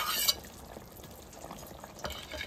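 A pot of taro (ol) curry simmers with soft, steady bubbling, quiet and close. A brief hiss rises at the start and light stirring noises follow.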